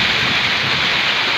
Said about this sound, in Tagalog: May waterfalls na kami dito.